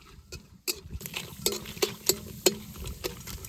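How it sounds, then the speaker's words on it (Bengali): Cashew nuts fry in hot oil in a pan with a soft, steady sizzle, broken by several sharp scraping clinks of a spoon stirring against the metal, fairly close. "কাজু বাদামটা একটু ভালো করে ভেজে নেবো"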